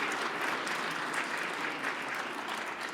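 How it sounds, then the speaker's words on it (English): A crowd claps steadily and evenly throughout at a 2022 GNCC off-road racing Hall of Fame induction ceremony, a full dense round of applause with no talking. "Why don't you give them a big round of applause for what a job they did."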